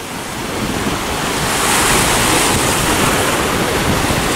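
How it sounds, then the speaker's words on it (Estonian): Strong wind blowing by the sea, a loud, steady broadband roar of gusts and surf that swells slightly after the first second and holds on with no voices. "Vesi on piisavalt jahe, tuul on tugev."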